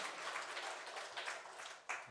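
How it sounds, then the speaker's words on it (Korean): An Easter Sunday church congregation clapping together, a soft, distant wash of applause that swells and fades briefly. "우리 하나님께 영광의 박수 올려드리겠습니다"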